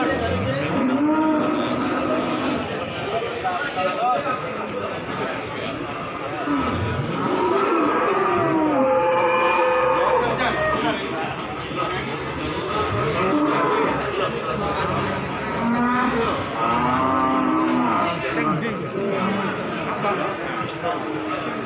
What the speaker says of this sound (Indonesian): Nah, ini ada sapi pegon.